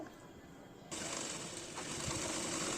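A sewing machine stitching the collar of a full-sleeved nightie starts up partway through and runs as a steady, even mechanical whir, quiet and close, with no voices.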